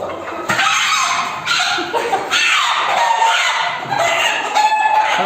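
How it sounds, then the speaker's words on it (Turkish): Loud, close crowing of a village rooster on a farm, in several long, strained calls one after another, with no talking. "horozumuz bağırmasından da bilindi Tam bir köylü horozu"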